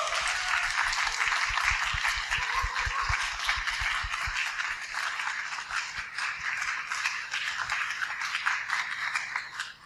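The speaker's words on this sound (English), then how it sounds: "a round of applause for all of our panelists today." Audience applause for the panelists at a live podcast event on psychedelic guiding, a dense, steady wash of many hands clapping that fills the whole stretch, loud and close, with no one speaking over it.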